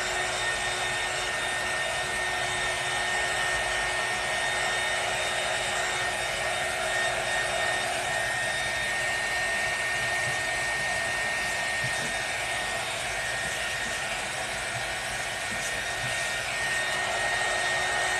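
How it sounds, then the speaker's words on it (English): A heat gun blows steadily on a crafted welcome sign, a continuous broadband airy roar with a faint whine holding nearly constant and fairly loud for the whole stretch, with no talking. "Then now we're going to just take another layer of heat gun."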